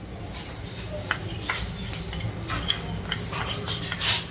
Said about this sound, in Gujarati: ચાટ મસાલો, સ્વાદ મુજબ મીઠું, આમચૂર પાવડર બધું આપણે મિક્સ કરી લઈએ.